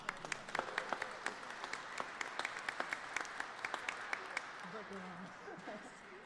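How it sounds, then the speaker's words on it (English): A small gathering at an International Day of Persons With Disabilities event applauds Hayden with a steady patter of hand claps, moderately distant, and a voice speaks briefly over the tail as the clapping fades. "How about a round of applause for Hayden?"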